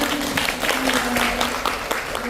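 A church congregation at a women's mission society worship service in a Hawaii resort hotel breaks into steady applause, a full, continuous wash of clapping with a low hum beneath and some faint voices.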